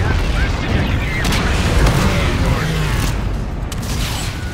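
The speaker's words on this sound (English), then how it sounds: "Friendly bombardment incoming." Artillery bombardment in a video game battle, dense rumbling booms and gunfire rolling continuously and loudly for several seconds, mixed with mechanical clatter and a voice talking over it.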